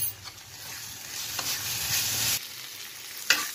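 Konkani fish masala spice paste sizzles and scrapes as it is stirred in a hot pan, a steady close frying hiss with brief scraping strokes that fades near the end.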